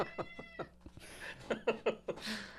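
A cat meows several times in quick succession close by during a casual podcast conversation, followed by scattered knocks and faint background voices.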